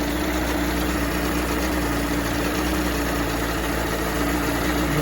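A 1989 Mercury 45 hp outboard engine idles steadily, a continuous close mechanical drone and hum with no pauses or changes, alone without voices.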